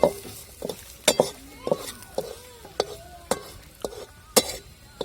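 Onion fries in a pan over a wood-fired clay stove outdoors under open sky, with a low sizzle and sharp, irregular scrapes and knocks as a spatula stirs it. Faint chirping drifts in the background.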